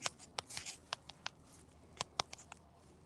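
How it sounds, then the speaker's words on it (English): Sharp, irregular clicks of keyboard typing, a handful of separate keystrokes spread over a few seconds, fairly close and moderately loud, with no talking. "Are you typing?"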